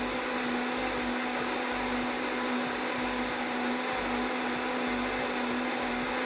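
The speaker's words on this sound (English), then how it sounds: "And just blend it." A Vitamix blender purees tomatoes at a constant high-speed whir, a loud, steady motor drone with a pronounced hum that stays even throughout, and no voices.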